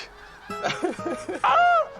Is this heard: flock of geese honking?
yes